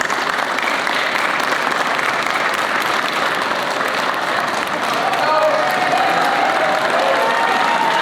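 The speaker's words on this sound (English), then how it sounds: "If you could just rise and give them a great big round of applause." A standing audience gives loud, sustained applause at a Bridgeport fire academy graduation ceremony, dense clapping and some cheering that stays level and grows slightly fuller toward the end.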